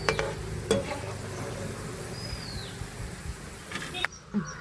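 Ginger pieces frying in hot oil and stirred with a steel ladle for a ginger curry, a steady low sizzle with a few sharp scraping clinks of metal near the start and end.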